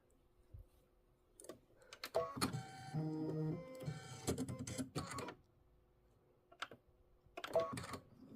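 An embroidery machine stitches a quilt square in short mechanical bursts, with rapid whirring and tapping runs separated by brief pauses and sharp clicks, close and fairly quiet.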